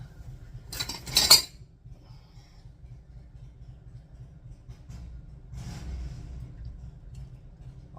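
Metal scoop clinking against jars and a pot while mulberry jam is ladled into canning jars, a brief bright clatter early on, then a softer scrape later over a low background rumble.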